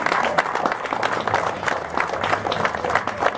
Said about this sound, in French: On peut déjà les applaudir tous les bénévoles